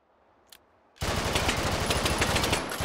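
PPSh submachine gun fired in the VR shooter Hot Dogs, Horseshoes & Hand Grenades, a brief click followed by a sustained loud burst of rapid automatic fire lasting nearly two seconds.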